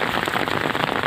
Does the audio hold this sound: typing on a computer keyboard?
no